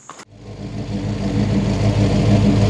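An old Chevrolet C10 4x4 truck engine starts up and runs, its steady mid-pitched rumble building slightly as the drive shaft spins, close and loud with no talking.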